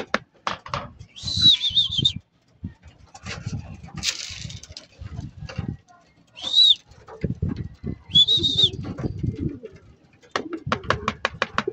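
Racing pigeons arriving at a loft, with soft cooing and bird calls in several short bursts, heard close and mixed with rustling, movement and light wing flaps.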